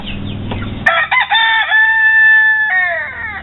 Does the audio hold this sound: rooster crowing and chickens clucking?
yes